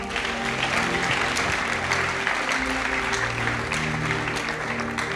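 An audience at a church service applauds loudly and steadily, a dense wash of clapping that carries on without a break for several seconds.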